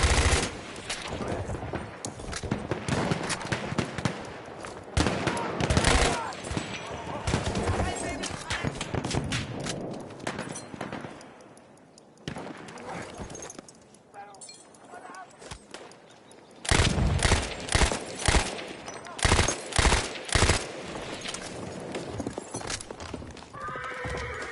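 Dense gunfire and explosions crackle through a World War I battle in Battlefield 1, with horses neighing and galloping hooves amid near-constant shots and a brief lull midway.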